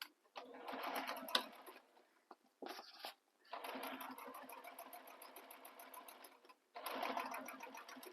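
A sewing machine top stitches along the base panel of a bag, running in several close, steady bursts of rapid stitching separated by short pauses, with no talking.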